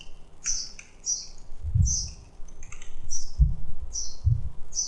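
Computer keyboard keys clacking as an email address is typed, in short irregular bursts of close, crisp taps, with bird chirps in the background and a few soft low thumps.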